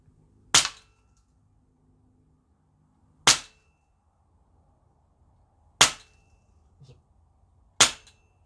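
A Steyr Pro X semi-auto bullpup air rifle fitted with a Huggett moderator fires four single shots, each a sharp, close crack with a quick decay, spaced several seconds apart in otherwise quiet surroundings.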